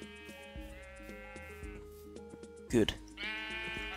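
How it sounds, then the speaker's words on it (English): Blocky sheep bleating in Minecraft, a couple of short wavering bleats near the end, heard under game music and a speaking voice. "There is another sheep there."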